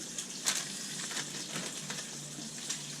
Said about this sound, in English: Ooh, got splattered by bacon.